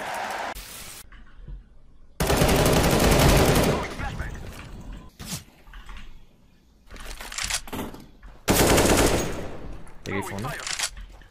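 Gunfire in CS:GO, with loud bursts of rapid automatic fire in several separate volleys and sharp single shots between them, under excited commentary.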